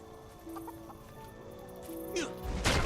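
Chickens clucking in the video game Guild Wars 2, a few short clucks scattered over the clip, followed by a sharp chopping hit and a burst of noise near the end.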